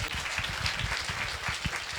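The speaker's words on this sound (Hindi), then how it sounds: "तालियां बजाकर" Church congregation clapping together in a short, quiet burst of applause, many hands patting in a loose rhythm from a modest distance.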